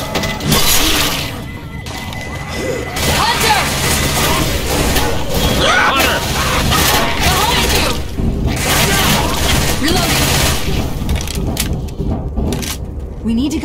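Grenade blasts in a SWAT tactical shooter, heavy booms with shattering debris amid dense gunfire and chaotic combat noise, with voices shouting throughout.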